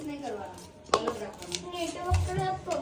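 Ingredients being mixed in a bowl in a home kitchen during a Diwali family gathering, with a spoon knocking and scraping against the bowl in short, close, irregular strokes over a soft background.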